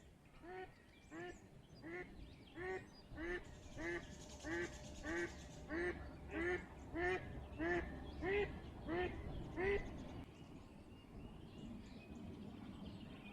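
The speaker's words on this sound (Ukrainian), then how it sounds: "вони подуріли ті качки, кричуть на ціле озеро" A duck on a lake in mating season quacks over and over in a steady, regular rhythm, loud and close, about a dozen calls before falling quiet against an open outdoor background.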